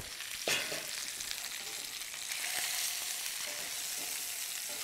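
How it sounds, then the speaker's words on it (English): A rack of lamb sears in a hot pan with a steady, close sizzle, a couple of sharper spits and crackles near the start and middle, and the hiss building slightly louder in the second half. "I'm going to sear it off on the other side as well for about 3-4 minutes"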